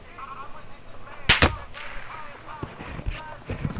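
Sniper fire in the Rebirth video game: a sharp double crack stands out near the middle, loud and close, over a low game background with faint voices.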